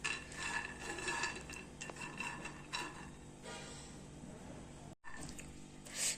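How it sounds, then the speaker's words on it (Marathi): Peanuts roasting in a pan over a low gas flame, stirred so they clatter and scrape against the metal in a steady, continuous rattle, with a brief break near the end. "कमी गॅसवर बघा शेंगदाणे चांगले भाजतात ते"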